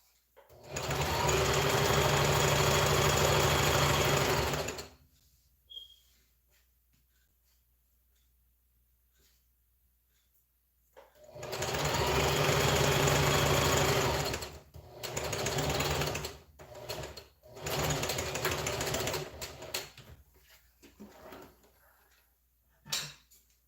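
A sewing machine stitches a long tube of stretchy fabric in three loud, steady bursts: about five seconds of whirring, a quiet pause with small handling clicks, then two more runs broken by short stops.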